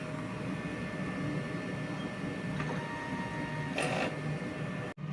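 DTF printer running a head cleaning cycle, a steady mechanical hum and whir at close range with brief swells of pump and carriage noise and a sharp click near the end.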